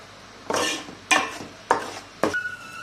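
A spoon scrapes and clinks against a metal pan four times at an even rhythm while a ground masala mixture is stirred into curry, each stroke close and crisp over quiet background.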